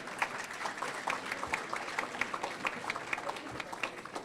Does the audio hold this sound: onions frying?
no